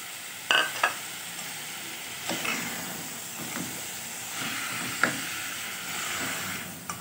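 Potatoes going into a pan of frying mixed vegetables for sabzi, a steady soft sizzle broken by several sharp scrapes and clinks of a spoon stirring, no voices.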